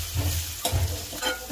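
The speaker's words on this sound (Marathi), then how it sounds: "कांदा चांगला लालसर होऊ द्यायचा आहे." Onion, green chilies and cumin fry and get stirred in a pan, a steady close sizzle with scraping stir strokes, no voices.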